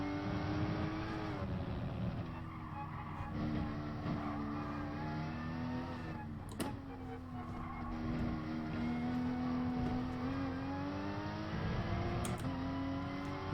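A Lamborghini race car engine in Gran Turismo Sport holds a sustained, loud roar, its pitch rising and falling through gear shifts and corners, with a brief clunk or two between.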